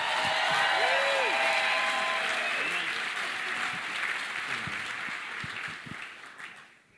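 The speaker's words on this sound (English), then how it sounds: "You know, you need to give him a far bigger clap" A church conference audience at YWAM Together 2015 gives dense, sustained applause while a voice speaks over it, and the clapping gradually thins toward the end.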